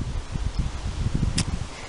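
Wind gusts through woodland trees, giving a low, steady rush and rustle of leaves with uneven buffeting close to the microphone.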